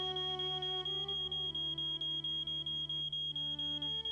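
An alarm goes off in the Nancy Drew game Treasure in the Royal Tower: a rapid, steady train of high electronic beeps over a sustained tone, loud and continuous throughout.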